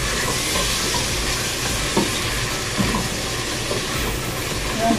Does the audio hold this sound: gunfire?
no